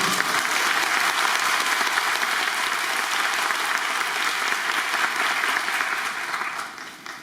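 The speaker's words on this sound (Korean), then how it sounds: "방금 전에 감사 인사 전한 우리 이석준 게이브에게 박수 칠 손이 없으시죠" Dense, sustained theater applause at the curtain call of the final performance of the musical Next to Normal, loud and continuous from a large audience before tapering off at the end.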